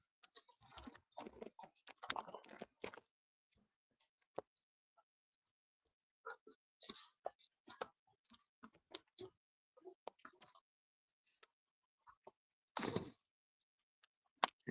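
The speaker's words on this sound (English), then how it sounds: "Now, this is a packet of crisps" Crisps eaten from a packet: bursts of crunchy chewing and crinkling come in irregular clusters with quiet gaps between them, close and fairly soft, with no talking.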